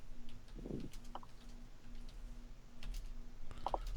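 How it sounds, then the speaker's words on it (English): Quiet computer keyboard typing in a room, a few scattered soft key clicks and taps, faint under a low steady hum. "Sorry, I'm sitting here typing in science."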